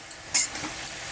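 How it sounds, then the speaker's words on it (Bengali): Khesari greens being stirred in a frying pan: a short soft hiss with one brighter scrape of the spatula, close and quiet. "শাকটাকে এবার আমি খুব ভালো করে নেড়ে দেবো।"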